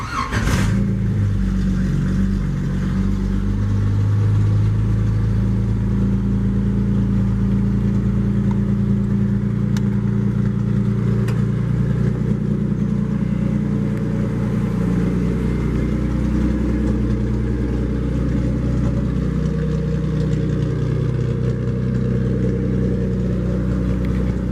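A 1941 Chevy truck's engine runs steadily and loud at close range, a continuous low rumble with slight rises in revs and no voices over it.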